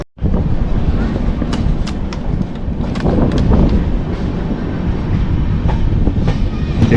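Jammu 22705 Humsafar Express train running, a steady loud rumble with rhythmic rail clatter heard from inside the moving coach.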